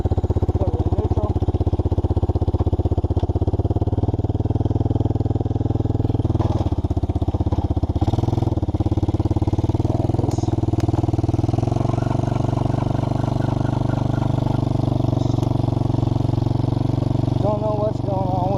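TaoTao 110cc quad engine idling in neutral, a steady low putter close by with small revs and knocks, while people talk over it.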